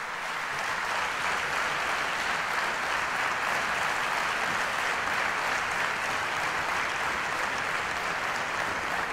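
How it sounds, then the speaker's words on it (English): Steady, dense audience applause at a Rotary District 3140 event for spiritual speaker BK Shivani, an even wash of many hands clapping continuously without pause. "She needs a big round of applause for that wonderful thought"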